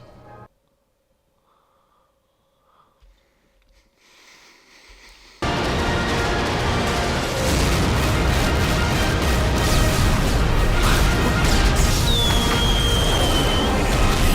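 Fireworks and explosions from the film V for Vendetta burst in loudly after a quiet start, a dense sustained roar of blasts and crackling with a rising whistle near the end.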